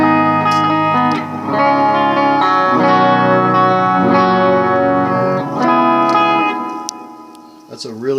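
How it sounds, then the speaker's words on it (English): An electric guitar plays sustained chords and notes through a TC Electronic Hall of Fame Mini reverb pedal, with a lush, lingering wash that decays toward the end before a brief pick noise. "So this is the reverb that it comes with."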